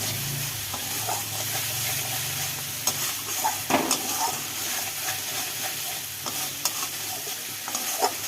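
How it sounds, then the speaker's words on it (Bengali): Dried fish (shutki) cooking in a wok, a steady sizzle and hiss of frying with occasional scraping stirs and clinks, close and continuous throughout. "এই দেখুন শুটকি মাছটা রান্না করছি।"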